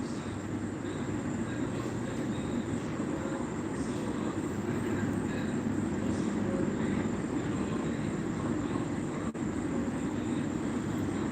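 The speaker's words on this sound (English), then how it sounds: "Yeah, we can hear the train, rumbling on through." A long freight train rumbles past steadily and continuously, a dense low roar with faint rattling on top that holds at an even level throughout, with no talk.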